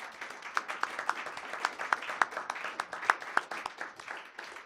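A small audience claps for a band at a live music session, a thin, scattered round of individual claps with distinct sharp hand slaps, fairly faint and steady throughout.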